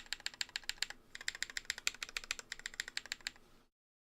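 Fast typing on a GMMK Pro mechanical keyboard fitted with rattly GMK stabilizers: close, crisp clacking keystrokes in quick bursts with a brief pause, then stopping abruptly.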